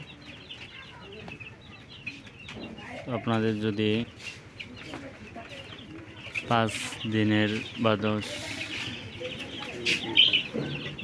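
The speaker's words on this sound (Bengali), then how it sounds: "আমার ব্রুডারের নবম দিনের খাসি মুরগির বাচ্চা দেখেন" Nine-day-old chicks in a brooder cluck and peep steadily in the background while a person talks over them at close range.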